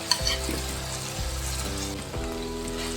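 Flattened rice (aval) and potato stirred in a pan, a steady close sizzle with soft scraping strokes running continuously, no voices.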